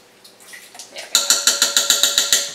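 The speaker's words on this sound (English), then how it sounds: "I'm going to use about a tablespoon, tablespoon and a half of apple cider vinegar" Apple cider vinegar is poured from a bottle into a pressure cooker for collard greens, starting as faint trickles and turning into a quick run of rhythmic glugs, close and clear.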